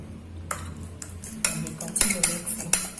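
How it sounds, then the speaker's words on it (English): Mashed banana with vanilla essence is mixed for eggless pancake batter in a bowl, a utensil clinking and scraping against the sides in scattered close strokes, starting quietly and growing busier. "Continue mixing."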